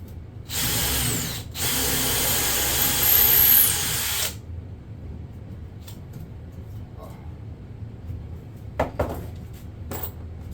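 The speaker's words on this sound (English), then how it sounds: "I'm going to pre-drill these again" A power drill pre-drilling holes in the wooden legs of a stool whirs loudly for a few seconds, briefly pausing and revving again, then stops; faint clatter follows in a quieter room.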